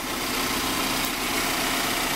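A 2015 Chevrolet Colorado pickup's four-cylinder engine idles steadily, a smooth even hum with a slight buzzy edge, unbroken and close.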